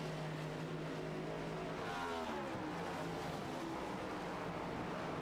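Stock car race engines drone and roar continuously down pit lane at New Hampshire, a dense distant roar with a car's pitch sweeping past midway.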